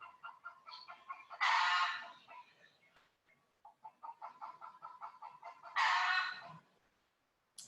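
Outdoor chickens cluck in a steady, fairly near chatter, broken twice by a loud drawn-out squawk, with a short lull between the runs.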